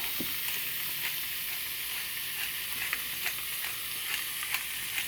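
Food sizzles and fries steadily in a pan, a continuous hiss broken by small pops and crackles throughout, fairly close and with no talking.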